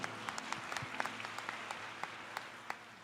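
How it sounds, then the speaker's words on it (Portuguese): A church congregation at a gospel service applauds in a continuous dense wash of clapping, steady and fairly faint throughout, with sharper individual claps popping out now and then. "Vamos dar uma salva de palmas bem forte para Jesus."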